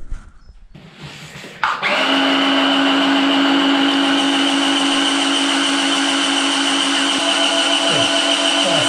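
Electric paint mixer starts abruptly and whirs steadily in a bucket of paint for an airless sprayer job, a loud continuous motor whine after a quiet start, with no talk.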